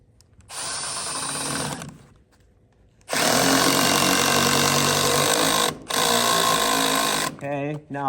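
A power drill whines as it backs screws out of a window frame in a log home, with two long loud runs and a brief earlier burst separated by pauses, ending in short stuttering bursts.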